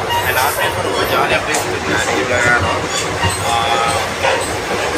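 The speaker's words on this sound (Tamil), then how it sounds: "ஸோ இப்போ ட்ரெயின் கிளம்பிடுச்சு." Palakkad Super Fast Express pulling out of Katpadi Junction after a one-minute halt, a steady rumble of wheels and rail noise under someone speaking over it.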